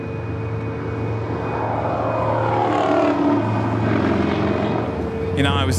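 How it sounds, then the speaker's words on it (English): An EVA Air Boeing 777-300ER jet departing LAX gives a broad, steady engine roar with shifting tones, heard at a distance under some talk. "Looks like the EVA Air 777-300ER heading back to Taipei."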